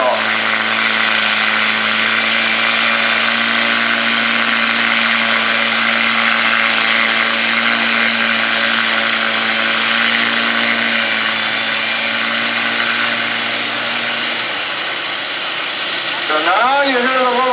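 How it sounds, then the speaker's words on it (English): A four-cylinder engine working hard to spin up the turbines of a tractor-pull tractor at a county fair, a loud, steady high whine with a constant drone underneath, and a voice talking over it near the end. "listen to that little four-cylinder work its butt off"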